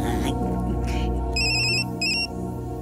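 A phone ringtone chirps in two bursts of bright repeating electronic tones, loud and close over a busy background of music and voices.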